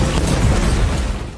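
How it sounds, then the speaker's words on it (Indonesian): A loud, dense explosion from an action film about a gang of robbers escaping a house, a sustained roaring blast that holds steady for over a second before cutting off. "Karena ledakan itu, Don membawa Gal keluar dari lokasi"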